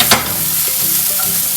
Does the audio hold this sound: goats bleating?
no